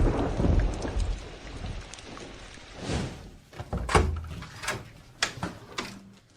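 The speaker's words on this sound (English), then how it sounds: "It's raining outside." Rain and thunder outside, heard as a steady wash of rain with several low rumbling claps and thuds spread through the scene, moderately loud and with no talking over it.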